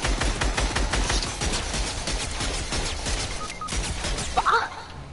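Automatic gunfire in a video game, rapid loud bursts rattling almost continuously, with a brief lull before a final clatter.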